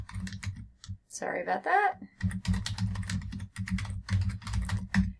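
Rapid typing on a computer keyboard, close and steady with short pauses, running under a person talking throughout.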